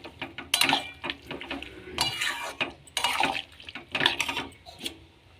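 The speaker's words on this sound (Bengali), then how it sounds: "এবার ভালো করে এটা নেড়ে নেবো" Chicken with ginger-garlic paste and spices being stirred in a pan for a thin chicken curry, with repeated scraping and clinking of a utensil against the metal in irregular bursts, close and moderately loud.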